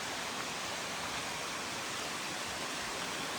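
A stream beside a hiking trail near a shelter rushes in a constant broadband roar, dense and steady like falling water, close and even throughout with no voices.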